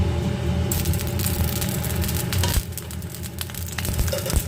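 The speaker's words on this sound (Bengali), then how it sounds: "আমি ফোড়নে কিন্তু রাঁধুনিটা দিয়ে দিচ্ছি" Radhuni seeds sizzling in hot mustard oil in a pan for a prawn curry, a loud steady crackle and hiss with brief spattering pops close by, and a short clink midway.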